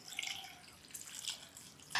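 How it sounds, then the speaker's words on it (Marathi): Drumstick pods are rinsed under running water, giving faint splashing and dripping at close range, with a brief louder splash at the end. "आता हा शेवगा अगोदर आपण स्वच्छ धुवून घेऊया."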